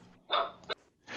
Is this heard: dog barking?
yes